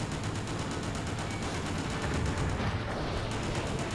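Loud, dense explosion and rapid gunfire in the action video game Just Cause, a continuous roaring barrage of blasts and crackling shots filling the whole stretch without pause.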